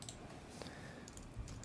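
Quiet, steady typing on a computer keyboard while HTML markup is entered, with soft, rapid key clicks in a continuous run, close by and with no one speaking.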